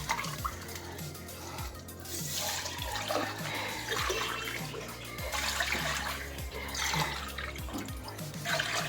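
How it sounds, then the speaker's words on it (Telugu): Water is poured steadily into a cooking pot, three glasses in all, in a home kitchen while semolina waits to be cooked. The splashing runs continuously throughout at moderate, close level, with a low background hum. "3 గ్లాసుల వాటర్ పోసేసుకుందాం."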